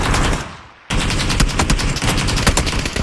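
Rapid gunfire in PlayerUnknown's Battlegrounds, a brief pause and then a dense, loud burst of repeated shots lasting to the end, with no speech over it.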